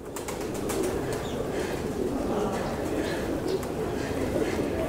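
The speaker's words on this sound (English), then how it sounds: "the priests of this place, they breed these doves" White doves bred by the priests at Yasukuni Shrine coo softly with an occasional flutter of wings, set against a steady outdoor murmur of people in the background.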